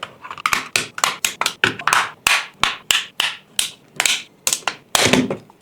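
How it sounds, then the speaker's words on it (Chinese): Plastic shell of a DJI Mini 3 drone being pried open with a pry bar, a rapid series of sharp, close clicks and snaps as clips release one after another, loud and alone. "拿个撬棒沿边边撬"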